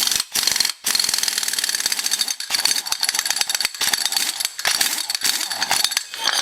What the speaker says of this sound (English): It takes a while with a pipe wrench because it said this is fine thread and it takes a minute to get them off.